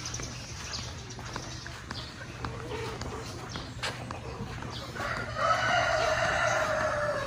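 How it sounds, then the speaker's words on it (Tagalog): Chickens of a costly breed kept in a roomy farm pen, heard as a steady outdoor bed of clucking and bird calls that grows fuller and louder over the final couple of seconds. "May makikita po tayo ng mga manok din po dito"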